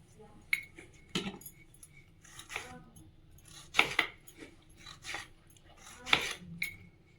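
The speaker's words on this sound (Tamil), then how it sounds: "தக்காளி, வெங்காயத்தை கட் பண்ணிக்கலாம்" A knife chops tomatoes and onions on a board for a Tamil egg gravy, giving scattered sharp knocks and clinks at irregular intervals, close and moderately loud, with no talking.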